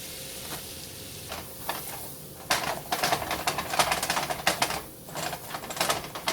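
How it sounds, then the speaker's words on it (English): Four tablespoons of butter sizzle and crackle in a pan as a quarter cup of flour goes in for a mushroom gravy, soft at first, then a busier, louder fizz with scattered pops. "I'm going to put 4 tablespoons of butter in. Let that melt, and then you're going to add a quarter cup of flour"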